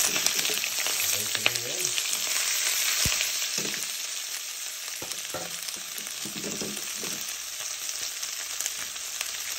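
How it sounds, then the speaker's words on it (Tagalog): Food sautés in a little cooking oil, a continuous bright frying hiss heard close up, with scattered scrapes and knocks from stirring. "Yan, siyempre gigisa na natin yan. Konting mantika."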